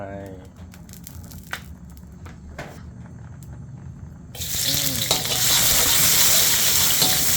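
Hot vegetable oil sizzles loudly in a frying pan, starting suddenly partway through after quieter kitchen clatter and faint background sounds.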